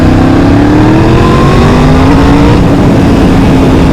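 A powerful motorcycle accelerates hard, its very loud close engine note climbing steadily in pitch under wind roar throughout.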